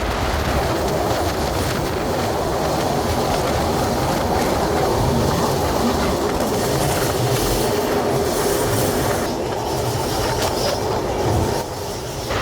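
A passenger train crosses the Buriganga railway bridge at Keraniganj near Dhaka, heard from on board as a loud, continuous roar of wheels and carriages with rhythmic clatter and occasional squeal. The noise stays close and steady throughout.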